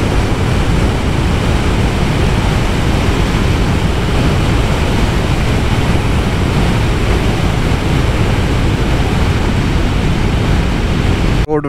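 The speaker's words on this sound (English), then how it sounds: "And windy." Cold wind of about 8 degrees roars over a motorcycle riding a road in Iceland, a loud, unbroken buffeting rush that cuts off abruptly at the end.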